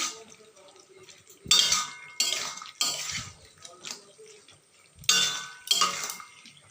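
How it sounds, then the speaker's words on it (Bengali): Spoon stirring sugar into a cooked dish in a pot, loud bursts of scraping and clinking against the metal in uneven strokes, with quieter gaps in between. "একটু ভালো করে মিশিয়ে নেবো চিনিটাকে নেড়ে চেড়ে নেবো"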